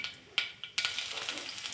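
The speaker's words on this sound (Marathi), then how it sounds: "एक दहा बारा लसणाच्या पाकळ्या ठेचून घालायच्या" Crushed garlic cloves drop into hot oil already holding mustard seeds and cumin. A few quick clicks lead into a steady, faint sizzle.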